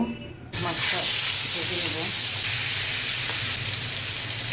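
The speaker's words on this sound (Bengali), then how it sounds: "বাকি মাছগুলো ভেজে নিচ্ছি তেলের মধ্যে" Red poa sea fish sizzling in hot oil, a sudden loud hissing burst after a quiet start that stays dense and steady, close to the pan, with no talk.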